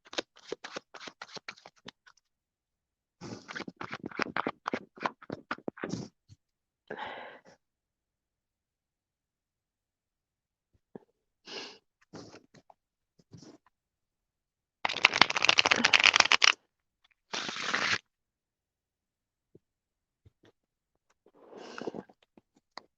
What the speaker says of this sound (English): I'm kind of having a hard time shuffling cards right